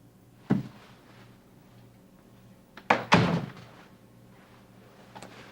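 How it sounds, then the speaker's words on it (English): A door thuds shut at about three seconds with a heavy slam and short rattle, preceded by a softer knock near the start and a faint click at the end, in a quiet indoor room. "Please close the door."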